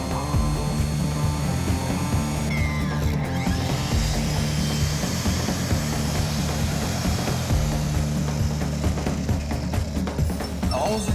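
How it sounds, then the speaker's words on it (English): A power drill boring holes into a hair clipper blade in a workshop, a loud continuous whirring grind that holds steady throughout, close up with no speech. "we'll be able to tap the hole with this drill. 48 1-inch holes are drilled for every tooth on the blade"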